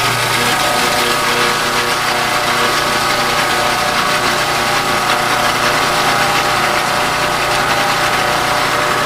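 Food processor running at speed while blending salad dressing from eggs and slowly added corn oil, a loud, constant whirring motor drone with a mechanical hum, steady throughout and without speech.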